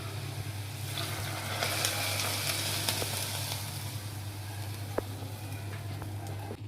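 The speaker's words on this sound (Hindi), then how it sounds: "तो अब ये हम अपनी दाल को तड़का लगाते हैं।" Onions and cumin tempering crackle and sizzle steadily into maash daal, a continuous hot-oil hiss with scattered pops over a low steady hum, close and fairly quiet.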